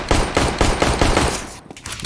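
Rapid automatic gunfire from Counter-Strike: Global Offensive, loud and close, bursts of shots repeating for about a second and a half before a brief gap and more firing.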